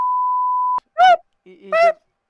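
A pure, steady censor bleep tone on a podcast holds for just under a second, then cuts off abruptly as people start talking.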